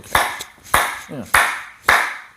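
Four sharp hand claps ring out at an even, unhurried pace, loud and close, with a brief voice sound between the second and third clap.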